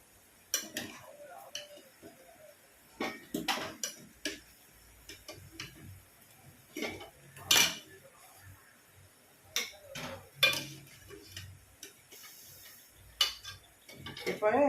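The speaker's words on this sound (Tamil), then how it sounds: "இப்போ வந்து ஒரு ஒரு பிளேட்டில் நான் எடுத்துடுறேன்" Freshly fried Mysore-style mini urad dal bonda fritters are lifted out onto a plate, giving scattered light clinks and taps of a utensil against metal and dishes, soft and intermittent, with occasional quiet speech.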